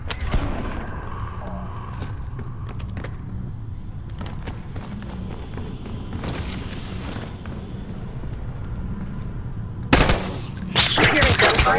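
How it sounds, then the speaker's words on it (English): Gunfire in the Call of Duty Black Ops 6 campaign, with intermittent rattling bursts and muffled distant shots under a low rumbling ambience, then louder sharp bursts toward the end. "Hearing gunfire?"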